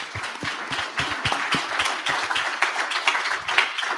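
A summit audience claps in sharp, uneven bursts, many distinct hand claps close together across the whole stretch.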